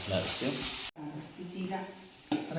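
Agathi spinach with crushed bird's-eye chillies is stir-fried in a pan, giving a close steady sizzle with a few stirring scrapes, briefly cut off partway through.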